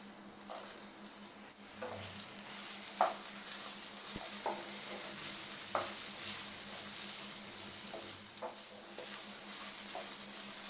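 Onion and capsicum sautéing in a pan, cut to medium size, give a steady soft sizzle with occasional stirring clicks and scrapes spaced every second or two, close by with no voices.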